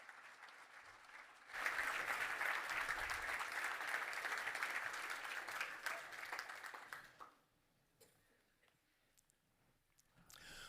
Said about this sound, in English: let us give a warm welcome and a big round of applause for Alister Mcgrath